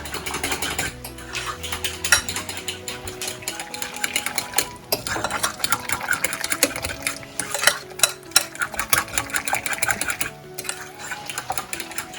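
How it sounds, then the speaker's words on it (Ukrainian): A spoon stirs and mixes food with salt and sour cream in a bowl, giving repeated clinking and scraping strokes in an uneven rhythm under background music. "І все це ще гарненько перемішати."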